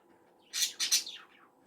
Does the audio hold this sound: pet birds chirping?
yes